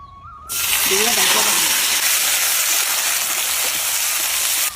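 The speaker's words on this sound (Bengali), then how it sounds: "আলুগুলো হালকা ভাজা হয়ে গেছে" Potato pieces fry in hot oil in a home kitchen, with a loud, dense sizzle that starts abruptly and holds steady throughout. A voice is faintly heard early on.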